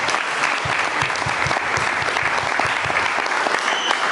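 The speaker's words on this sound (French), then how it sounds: "Acclamons tout d'abord le Seigneur." A church congregation applauds steadily at a Sunday thanksgiving service, dense close clapping with a rhythmic beat running through it.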